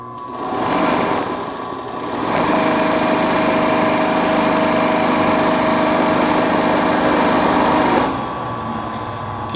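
A GN 1 overlock sewing machine stitching fabric in a steady, close mechanical whir that rises after a short start, holds evenly for several seconds, then eases off, with no voices.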